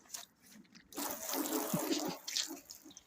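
Water splashes and streams steadily over a hazy car headlight being wet down for restoration, a rushing spray that swells after a quiet start and then eases, close and fairly loud with no talk.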